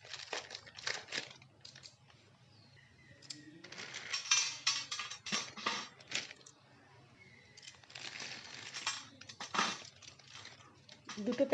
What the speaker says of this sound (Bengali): এখন এই ম্যাগির প্যাকেট থেকে আমি ম্যাগিটাকে বার করে নেব।